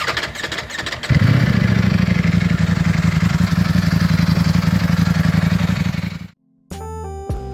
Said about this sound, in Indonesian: suara motor Ducati kebanyakan kayak mesin jahit